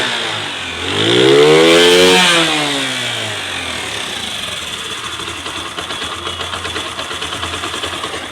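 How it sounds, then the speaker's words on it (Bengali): A Honda CD 80cc motorcycle engine, just repaired, is revved once in a rising and falling surge, then settles into a steady, close, rapid idle putter. "তো এই ছিল বাইকের সাউন্ড।"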